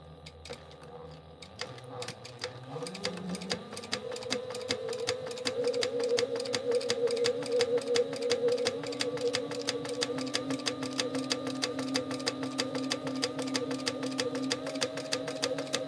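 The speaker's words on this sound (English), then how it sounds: "now we're going to go and top stitch an eighth of an inch onto that" A sewing machine top stitches an eighth of an inch from the edge, starting with a few slow stitches and then settling into a fast, steady, close mechanical ticking hum.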